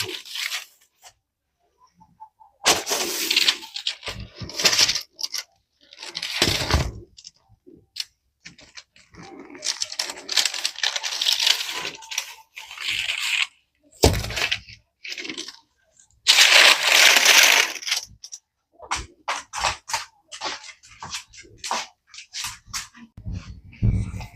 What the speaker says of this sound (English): I just cut it into the loaf that I made